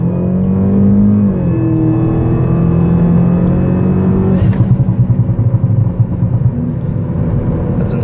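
A 2011 Mini Cooper R56 with a Stage 2 tune accelerates from a 35 mph roll, revving loudly from inside the cabin, with a thin high turbocharger whine running steadily above the rumbling motor.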